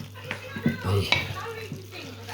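A spoon stirs veggie chicken in a creme fraiche and Dijon mustard sauce in a pan, giving soft scrapes and gentle bubbling over a quiet sizzle, with a voice murmuring faintly.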